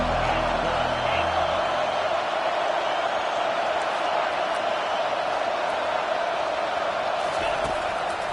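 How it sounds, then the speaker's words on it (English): Loud, dense stadium roar from a college football crowd swells behind the defense on third down, a continuous wall of massed voices with scattered whoops and some low rumble fading early on. "Decibels rising as the crowd gets behind this defense on 3rd down"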